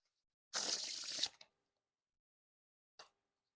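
A deck of Black Bicycle Aviary playing cards spread in one giant fan, a short close riffling rasp about three-quarters of a second long, then a faint single card flick a moment later in otherwise quiet surroundings.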